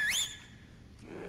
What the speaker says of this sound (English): That was a good whistle.